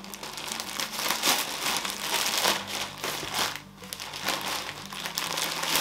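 Crinkly plastic packet from a horse-rider-themed advent calendar being opened, continuous close crackling and crumpling that rises and falls in bursts for several seconds, with no talk.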